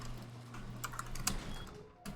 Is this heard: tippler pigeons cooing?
no